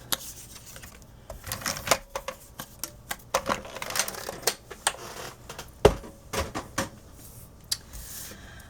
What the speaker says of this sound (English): I'm going to line up my scallops there and cut it at 2 inches